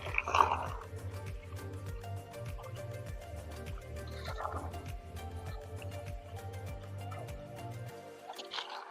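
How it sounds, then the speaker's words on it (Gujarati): An electric water pump motor runs at a village home while filling water, giving a steady, rhythmic low hum with liquid splashing and dripping close by. No talk. "ચલો હવે આપણે મોટર ચાલુ કરી દીધી છે અને પાણી ભરી લઈએ"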